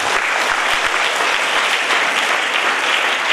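An assembled crowd at the Odiyuru Sri Gurudevadatta Samsthanam school event applauds the teacher with loud, continuous, dense clapping throughout, with no talking over it.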